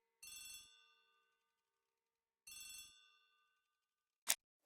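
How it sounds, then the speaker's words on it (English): A telephone bell rings in a hall in an Agatha Christie video game, giving two bright bursts with a pause between, then a short sharp click. No one speaks. "The telephone in the hall is ringing."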